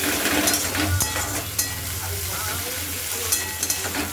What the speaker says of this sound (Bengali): রসুনটা দেওয়ার পর আমি পেঁয়াজ দিয়ে দিচ্ছি। পেঁয়াজটা একটু লাল করে ভাজবো।